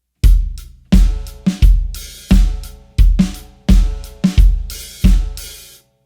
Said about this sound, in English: but you're going to add in the ghost notes on bars 3 and 4